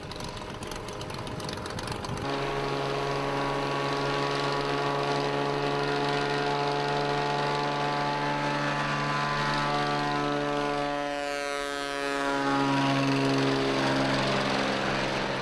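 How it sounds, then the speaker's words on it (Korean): Floatplane over Kodiak Island, Alaska, its propeller engine droning loud and steady with strong low harmonics, then sweeping in pitch as it passes close by and swells louder. "100km는 반나절 이상 걸리기 때문에 수상 경비행기를 타고 가는 것이 보통이다."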